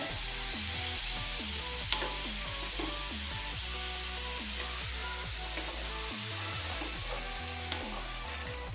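Prawns fry in ghee in a restaurant-style roast, a loud continuous sizzle layered with repeating tonal background sounds throughout; no voices.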